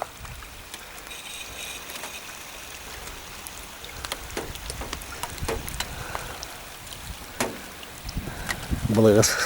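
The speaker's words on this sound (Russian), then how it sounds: "одно облачко набежало вот, и дождик пошел." Light rain patters steadily with scattered drop clicks, a soft continuous wash with occasional louder taps.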